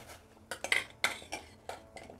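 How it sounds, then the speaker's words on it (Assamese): Taro pieces dropped one by one into a pot of boiling water, giving several sharp splashing clinks and knocks at an uneven rhythm, close and fairly loud, with no talk. "এইখিনি পানী উতলি গৈছে মোৰ এতিয়া মই এতিয়া ইয়াতে কচুকেইডোখৰ দি দিম"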